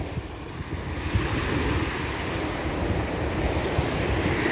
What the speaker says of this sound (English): The sandbar helps slow down the waves that come in.